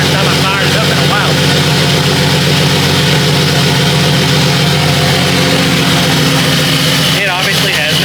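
A turbocharged engine idles steadily right after being fired up for the first time in a while, a loud continuous low rumble with a faint whine, up close the whole time.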